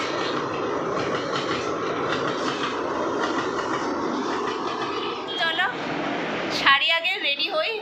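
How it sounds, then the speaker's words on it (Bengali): A Mumbai train rumbles and clatters past in a continuous heavy roar, then fades as voices start talking over the quieter background. "এদিকে ট্রেন যাচ্ছে একের পর এক"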